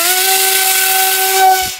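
The RC boat Super Villain, running twin motors on 50-amp ESCs, launches with a loud, steady high-pitched electric whine and airy hiss that holds throughout before tapering at the end.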